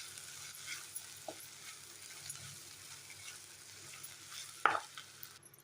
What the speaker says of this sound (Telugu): కారం వేసి కారం కొంచెం ముక్కలకి పట్టేదాకా ఫ్రై చేసుకుంటే బాగుంటుంది